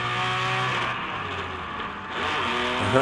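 A Datsun race car with a naturally aspirated straight-six engine and a loud header, circling a track at the Monterey Historics, its engine drones steadily near and loud, with pitch shifts as it changes gear late in the run.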